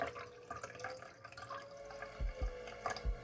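Half a cup of water is poured into a Halloween cocktail infusion mixture for jello shots, soft close trickling and dripping with a few low splashy thumps, fairly quiet.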